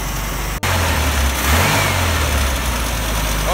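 Rebuilt 1600cc carbureted car engine running after assembly, a loud, close, steady idle with a brief cut and a rising rev before settling into an even drone.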